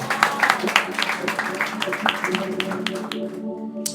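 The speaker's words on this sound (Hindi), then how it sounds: "एक जोरदार ताली हो जाए यीशु" A church congregation claps loudly, a rapid crowded patter of hands with voices and music tones underneath, tapering off in the final moments.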